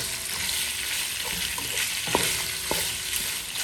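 Pork frying in oil until golden brown, a steady close sizzle with a couple of sharp metallic taps from a utensil against the pan.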